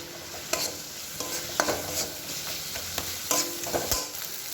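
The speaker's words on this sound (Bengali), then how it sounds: "দিয়ে মশলাটা ভালোভাবে কষিয়ে নেব।" Spice paste loaded with chili powder stir-fried in a pan for a fish curry, a steady close sizzle broken by regular scraping strokes and light clinks of a spatula.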